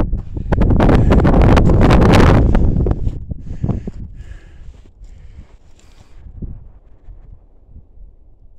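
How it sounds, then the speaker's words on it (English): Heavy gusts buffet the microphone with loud rumbling bursts, easing into softer, intermittent wind rustle, on a high desert hilltop near Panaca, Nevada. "We're getting up here to the top where it's going to be windy,"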